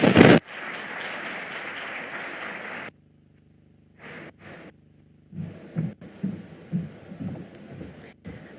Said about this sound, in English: Another big round of applause for His Excellency.